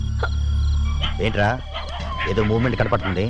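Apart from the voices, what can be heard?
dogs barking at night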